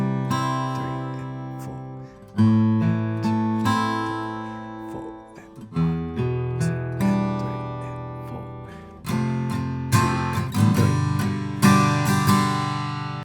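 Acoustic guitar strumming chords in a steady pattern, ringing and fairly loud, with chord changes every couple of seconds; no voices.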